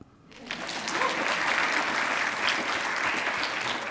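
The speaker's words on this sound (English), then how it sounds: "I think we should clap" Audience applause after an award speech at a library and education summit, a dense steady wash of many hands that swells up within the first half second and holds loud and even to the end.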